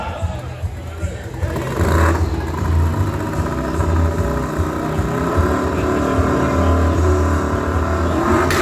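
A motorcycle engine fires up and settles into a loud, low rumbling idle with a few throttle blips, close by at a custom moto show in downtown Los Angeles' Arts District.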